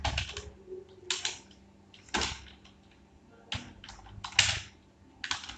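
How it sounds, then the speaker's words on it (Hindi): Keys clatter on a computer keyboard as text is typed in InPage, short bursts of quick clicks separated by brief pauses, close and fairly quiet. "मैं यहाँ पर उर्दू पब्लिशर लिख देता हूँ।"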